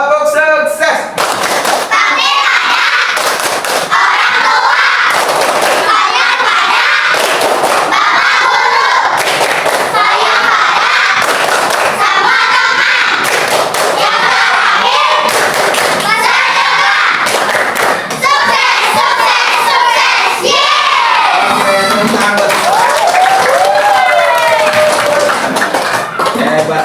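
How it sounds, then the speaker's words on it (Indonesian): Schoolchildren in an Indonesian classroom perform the 'tepuk sukses' clapping routine, rhythmic bursts of claps and thumps mixed with shouted chanting voices, loud and close throughout. "Tepuk sukses."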